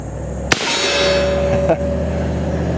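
Pistol shot striking a steel tombstone-shaped target, a single sharp report followed by a ringing metallic clang that sustains and fades, with a second fainter knock about a second later.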